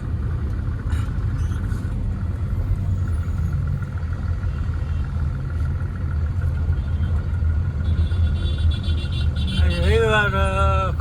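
Stalled highway traffic between Bharuch and Kim: a continuous low engine rumble of idling cars, steady and close, with a rising horn-like tone near the end and faint talk at moments.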